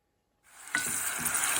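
Carrot and onion start sizzling in a hot pan for salmon soup, the frying hiss bursting in after a moment of silence and then holding steady, close and bright.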